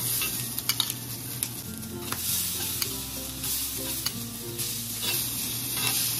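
Rice and corn hit a hot sizzling plate for a pork chop dish, giving a loud, continuous sizzle with scattered crackles and scrapes from a utensil. No one speaks.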